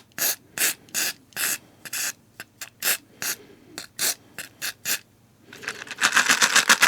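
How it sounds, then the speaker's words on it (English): An aerosol can of WD-40 sprays rusty screws sitting in a small tub: a rapid series of short hissing spurts, close and crisp, ending in a longer continuous spray blast. "all I'm going to do is give them a quick blast with WD-40"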